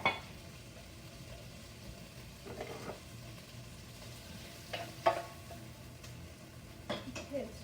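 Tomatoes frying in olive oil in a pan give a soft, faint sizzle under the room sound, with a few clanks of utensils against the pan.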